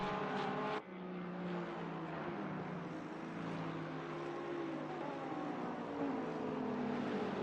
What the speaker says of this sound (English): Taking a moment to listen to the very loud engines there as Simon Angel takes to the right-hand side